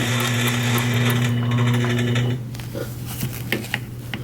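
A domestic sewing machine stitches steadily and fast during free-motion ruler quilting of a twisted triangle design, then stops, leaving faint handling clicks and the rustle of fabric close by.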